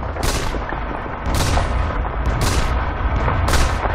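Shrapnel ability in Dota 2, four heavy explosive bursts landing about one second apart, each a loud booming crack over a rumbling battle background.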